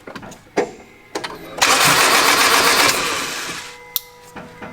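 Forged car engine cranking over, a long loud broadband burst of starter and engine noise lasting over a second, framed by short knocks and clicks before and after.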